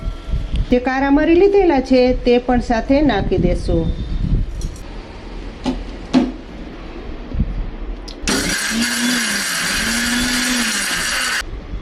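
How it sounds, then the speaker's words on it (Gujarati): A mixer grinder coarsely grinds spices (coriander, mustard and fennel seeds) in a loud, steady whir that starts abruptly and runs to the end, after someone speaks and a few clinks. "આપણે બધા મસાલા અધકચરા વાટવાના છે એકદમ ઝીણા નથી વાટવાના"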